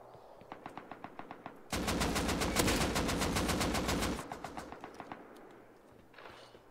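AK rifle fire in the game Rust: spaced single shots open, then a loud, sustained automatic burst of rapid cracks lasting a few seconds, tapering into a few more scattered shots.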